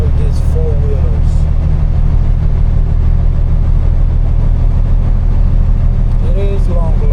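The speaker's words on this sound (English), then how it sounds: "Look at all these trucks, all these four-wheelers." Heavy low engine rumble from a long line of trucks and cars idling in stopped I-40 East highway traffic, steady and continuous throughout, with a few brief squeaky higher sounds near the start and end.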